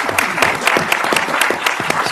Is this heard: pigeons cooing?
no